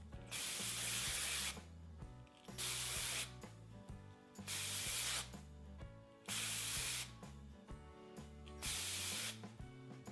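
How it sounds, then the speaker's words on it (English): Aerosol hairspray misted onto hair for beach waves, with five loud hissing bursts about a second long, evenly spaced, over a faint steady background hum. "So what I always do is I'll take my hairspray"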